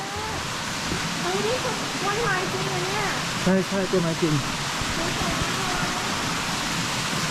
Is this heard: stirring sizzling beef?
no